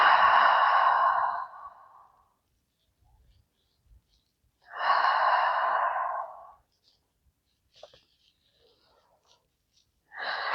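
Slow deep breaths during a gentle bedtime yoga stretch: three long exhalations, soft and close, separated by quiet pauses.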